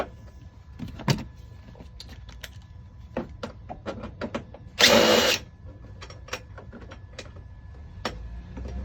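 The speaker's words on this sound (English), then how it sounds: "I'm going to take this screw out." A power drill whirs in one short half-second burst to back a Torx screw out of a Kawasaki KRX cab enclosure, surrounded by scattered clicks and taps of handling parts nearby.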